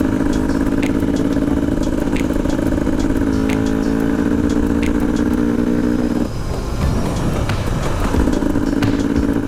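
Modern two-stroke KTM XCW wide-ratio dirt bike ridden on a street, a loud, buzzy engine held steady at high revs, briefly dipping as the rider shifts, then pulling hard again.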